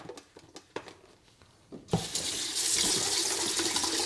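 After a few soft knocks and handling sounds, a tap opens and water rushes into the Bissell Little Green Pro carpet cleaner tank, a loud, steady, close hiss that continues to the end.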